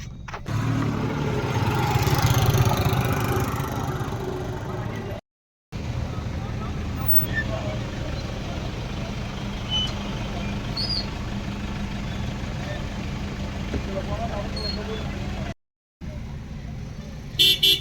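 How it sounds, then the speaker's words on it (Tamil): Busy road traffic on the way to the Isha Yoga centre during a Maha Shivaratri trip, with a steady wash of engines and car horns honking now and then, continuous and fairly loud, with a brief voice early on. "நான் உங்களுக்கு எவ்வளோ டிராஃபிக்காக இருக்குன்னு காட்டுறேன்"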